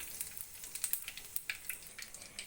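Cumin seeds frying in hot oil for a tempering, a faint, quiet crackle of scattered small pops and sizzle ticks running steadily, with no talk.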